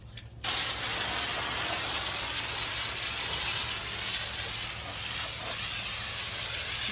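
An Udor HBA 1870 boomless sprayer discharging a fan pattern, a loud, steady, close hiss of spray that starts abruptly and runs continuously, easing slightly toward the end.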